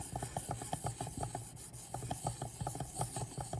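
A knife blade is drawn in steady, even rasping strokes across a ceramic stone on a Work Sharp Precision Adjust sharpener, a soft repeated scraping rhythm heard close up with no talk.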